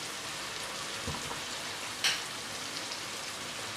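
Mustard seeds and onion fry in a pan for a plantain stir-fry, giving a continuous fine crackling sizzle with one sharp pop, alone and at even volume.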